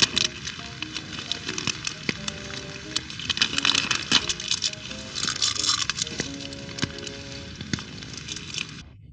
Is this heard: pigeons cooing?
no